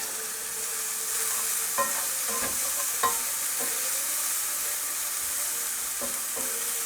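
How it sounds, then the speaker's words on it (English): Mushrooms sizzle steadily in a pan inside a Bailey Discovery D4-4 caravan, a constant close frying hiss with occasional clicks and scrapes of stirring. "just fry that up for a bit"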